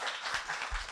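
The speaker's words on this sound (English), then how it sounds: "Give her a clap." Brief, faint audience applause for a newly appointed Deputy Director General for Innovation, a soft scattered patter of clapping in a room, under a second long.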